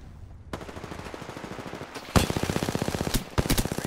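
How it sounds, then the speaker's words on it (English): Rapid automatic SMG gunfire in Apex Legends, dense bursts of quick repeated shots that start faintly, then grow louder and closer, with brief gaps between volleys. "Oh, someone else is shooting at him."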